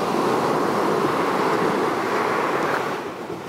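Sea waves washing onto the shore, a loud, steady broadband wash that holds for a few seconds and then eases slightly as the surge recedes.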